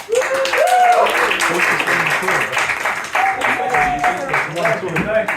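A student stand-up comedy audience in Canterbury claps and stomps to welcome a comedian to the stage. Loud, sustained applause sits under excited voices and whooping cheers.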